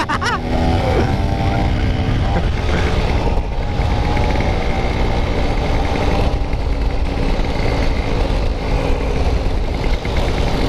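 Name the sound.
Vespa scooter engine kick-started and running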